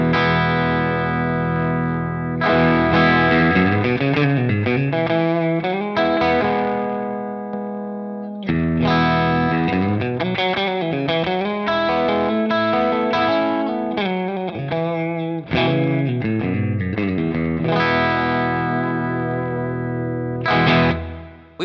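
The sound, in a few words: guitar through compressor pedal, blend knob dialed back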